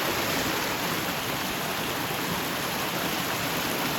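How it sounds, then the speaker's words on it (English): A mountain stream in Angeles National Forest rushes along with a steady, close, even hiss of flowing water and nothing else over it. "I see this beautiful stream of water flowing down the mountain."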